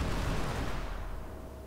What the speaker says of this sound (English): just to see the effect that the graphics pack gives us is really nice with the explosions